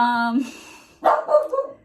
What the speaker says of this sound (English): Dog barking adds excitement to our video.